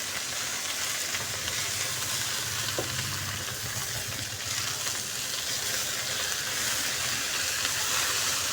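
Okra and green chilies frying and being stirred in a pan, a steady soft sizzle with faint scraping from the stirring, continuous with no voices.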